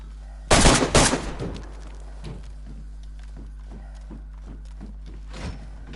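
An AK rifle fires in the survival game DayZ: a loud, close burst of a few rapid shots, followed by a faint, irregular series of light taps and steps under a steady low hum.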